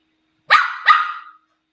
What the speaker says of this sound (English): Oh, girl, why you barking at me?